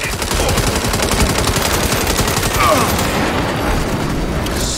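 Dense gunfire and rolling explosion blasts from an airstrike in the video game Saints Row, loud and continuous with heavy low rumble throughout.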